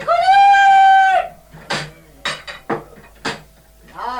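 Dishes being cleared and handled in a home kitchen: a long bleating animal-like cry opens, followed by several sharp separate clatters and clinks of crockery, loud and close, with no talk.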